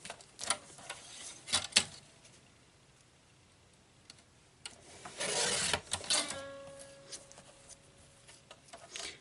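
A paper cutter trims card stock for memorial thank-you cards, giving a few sharp rasping slides and clicks, then a longer scraping pass with a faint ringing tone after it; close, with no talking.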